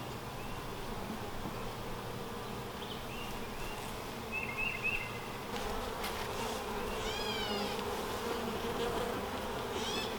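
Honeybees at a newly established hive drone in a steady, dense buzz during an inspection, with occasional louder individual bees passing close by and no talking.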